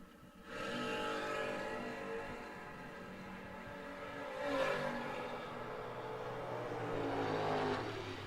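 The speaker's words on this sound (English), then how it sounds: "Chris Hester, Eldridge, Alabama for I-22, running that gray Monte Carlo" Drag race cars running at a drag strip, among them a gray Monte Carlo, with a sustained loud engine roar that surges around the middle and again near the end, heard from a distance over the track.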